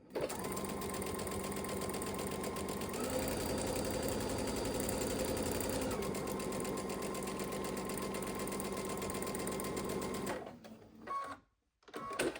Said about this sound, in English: I'm going to go ahead and continue sewing all of these